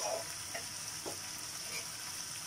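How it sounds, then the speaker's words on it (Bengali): Egg curry frying and being stirred in a pan: a steady, close sizzle with a few soft scrapes of the spoon, no voices. "সুন্দর করে মিশিয়ে দিচ্ছে"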